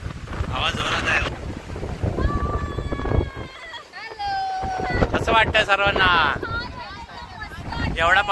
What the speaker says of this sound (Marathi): एवढा हवा सुटली एकदम का?